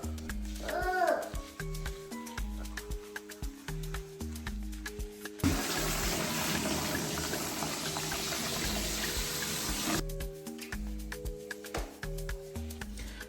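Water runs steadily during hair washing, a broad rushing stream for about five seconds in the middle, surrounded by quieter stretches of tonal background sound and some voices.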